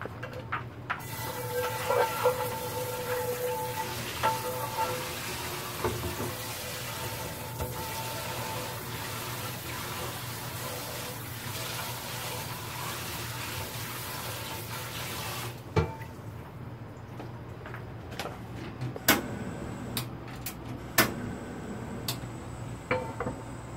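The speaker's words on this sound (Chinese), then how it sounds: "那这个我洗锅一下咯。" A pan being rinsed under a running kitchen tap before frying chive pockets made from dumpling wrappers, a steady water stream for about fifteen seconds, then quieter with a few clinks of the pan.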